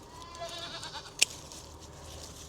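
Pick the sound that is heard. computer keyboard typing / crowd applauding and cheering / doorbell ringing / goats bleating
goats bleating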